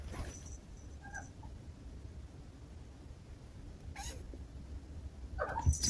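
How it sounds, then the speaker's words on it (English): A cat indoors gives a few faint, brief meows at a distance, scattered across a quiet room with steady low background hum and no talking. "Is that a cat in the background?"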